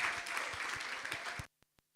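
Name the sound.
applause welcoming a seminar speaker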